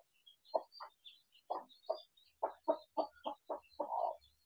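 Mother hen clucking while teaching her newly hatched chicks to peck, a series of close short clucks in an uneven rhythm with faint high chick peeps above them.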